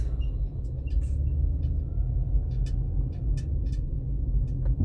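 Street traffic of cars and trucks on a congested road in The Gambia, with taxis parked and delivery trucks blocking the way: a steady, loud low rumble of engines, with brief higher hisses and squeaks breaking through.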